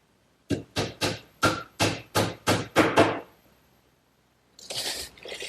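A hammer drives small nails into the wooden case of a glued chest of drawers, eight evenly spaced loud close blows in a quick rhythm, then a pause and a burst of rougher rustling knocks.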